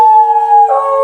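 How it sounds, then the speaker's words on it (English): Dogs howl along with a ringing campground phone, their sustained, wavering tones loud and close, with a second voice joining partway through. "And then the other dogs chime in."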